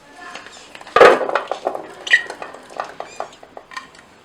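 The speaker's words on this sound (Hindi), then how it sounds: "अब बाउल में हम सबसे पहले चने डालेंगे।" Chickpeas tipped into a bowl for chana chaat: a sharp initial clatter followed by a run of small irregular clinks and patters as they settle, close and fairly loud.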